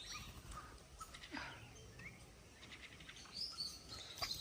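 Small bird chirping in short, scattered calls over a steady background, carrying a piece of lychee off to feed its chicks; the tweets are fairly faint and irregular, with no talking.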